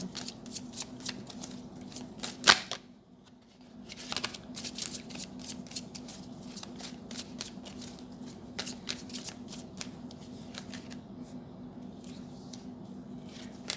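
Tarot cards being shuffled by hand for a reading, a steady run of riffling and sliding snaps with a sharp tap partway through, close and alone with no talk.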